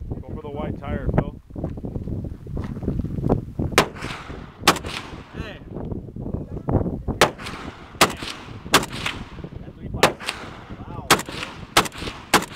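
Shots from an AK rifle fired outdoors, sharp loud cracks spaced a second or so apart and growing more regular, with people talking and wind buffeting the microphone between shots.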